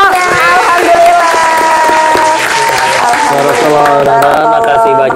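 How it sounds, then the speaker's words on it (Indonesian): Steady applause from an audience at a Q&A-style talk show fills the whole stretch, dense and close, with voices and tonal sounds carrying over it. "Gue tepuk tangan untuk kita semuanya."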